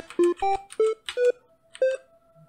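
Pico-8 fantasy-console instrument notes play as a quick run of short, bright chiptune tones, each a clipped electronic pitch, ending on a longer held note and a soft low blip.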